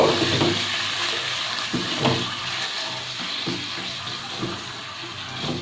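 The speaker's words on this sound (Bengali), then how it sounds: "আমি মশলাটাকে একটু কষিয়ে নিচ্ছি। মশলাটা একটু কষানো হচ্ছে" Spice paste with Kashmiri chilli powder sizzling steadily in a pan for a vegetarian pointed gourd and rice dish, a continuous loud hiss with occasional soft stirring scrapes and no talk.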